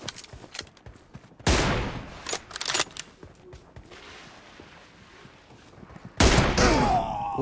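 Gunfire in the video game BGMI: loud bursts of shots, first a rapid burst, then scattered single shots, and a sharp heavy burst at the end, with quieter mechanical clicks between them.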